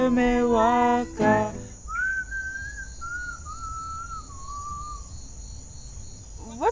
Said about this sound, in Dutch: Je fluit.